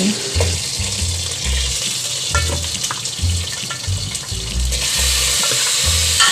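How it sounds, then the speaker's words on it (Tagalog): Goat meat and cow leather stir-fried in oil with onion over a low flame, a steady close sizzle with repeated scraping stir strokes and a brief splash of water, no talk. "I mix it well with the oil, onion, and the goat meat and the cow leather inside, and must be stir fry, small and low fire."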